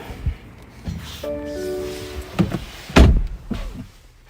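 Getting into a BMW M235i: rustling and shuffling, a short electric whir, then a solid door thunk closing nearby, followed by quieter interior handling noises.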